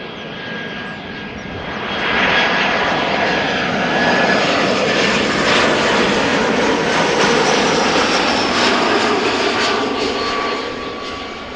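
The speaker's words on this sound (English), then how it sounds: "This is EasyJet A319 arriving from London Luton." An EasyJet Airbus A319 jet airliner arriving from London Luton at Amsterdam Schiphol Airport, its engine roar swelling after a couple of seconds into a loud, steady broadband rush with a thin whine, holding strong before easing slightly at the end.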